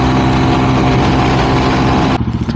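A Honda CT125 trail motorcycle, fitted with a 164cc engine setup, idles loud and close at a gas station with a steady low thrum, then its note drops and pulses unevenly near the end.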